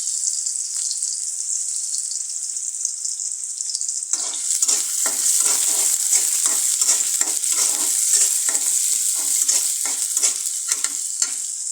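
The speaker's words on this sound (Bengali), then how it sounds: "প্রথমে দিয়ে দিচ্ছি জিরে" Cumin seeds sizzling in hot oil, a bright steady frying hiss that grows louder midway, with a quick run of rhythmic scraping stir strokes over the sizzle; no talking.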